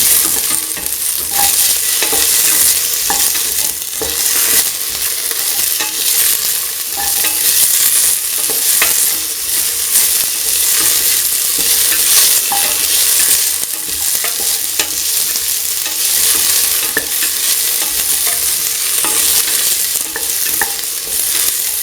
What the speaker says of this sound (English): Mix the individual pieces together with the mixture.